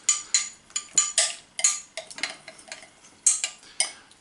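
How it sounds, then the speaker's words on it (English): A spoon scraping and clinking in a bowl while mixing peanut butter with sauces, in a series of irregular, close, sharp taps and scrapes with no speech. "just put this together and give it a mix"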